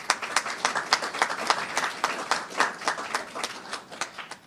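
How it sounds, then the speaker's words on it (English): Audience applause at a business and investment conference in the Bahamas, a steady patter of many hands clapping in a hall, moderately loud and unbroken for several seconds. "I invite you all to please give him a round of applause"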